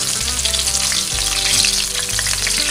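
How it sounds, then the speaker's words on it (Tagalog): Fish fries in a pan with a loud, continuous sizzle and crackle of hot oil, close up, with no talking. "iprito ko lang po ito muna"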